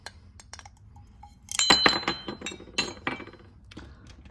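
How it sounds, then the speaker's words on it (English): A wheeled mosaic cutter snaps through glass, smalti and thin porcelain, making sharp clinks and crisp cracking snaps in a cluster of close, bright bursts after a quiet start. "So let's just do some cutting with these, the Leponitt. Glass, smalti, and thin, this is porcelain."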